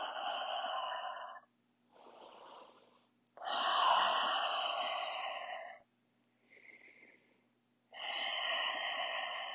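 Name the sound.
breathing while holding a yoga pose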